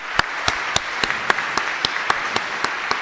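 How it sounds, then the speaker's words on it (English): Scattered, sparse handclaps from an audience applauding musicians at a school Veterans Day ceremony, about a dozen distinct claps spread evenly over a few seconds with no voices. "let's give these wonderful musicians another round of applause"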